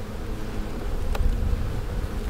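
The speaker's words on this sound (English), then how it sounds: "It looks like I've got a cluster of bees over here." A cluster of honeybees at stacked hive boxes outdoors makes a continuous, dense buzzing hum that stays steady and close throughout, with no talking.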